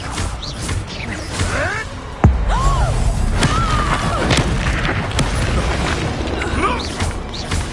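A Descendo spell in Hogwarts Legacy slamming an enemy down: a sharp heavy thud and crash amid swooshing magical effects and sparkling tones during busy combat.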